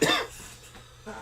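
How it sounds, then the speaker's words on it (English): A single chest cough bursts out at the start from a man who is still ill, followed by quiet room tone and a faint breath. "I got a chest cough still."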